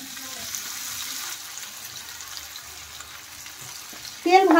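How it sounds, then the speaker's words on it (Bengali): Soybean pakoras frying in hot oil give a steady, moderate sizzle, with a burst of speech near the end. "এখন আমি পকোড়াগুলো ভেজে নেব"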